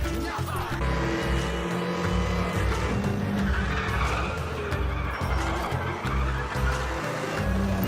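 Race cars in the Need for Speed The Run video game, engines roaring continuously with tires squealing and skidding, loud and dense throughout with no pauses.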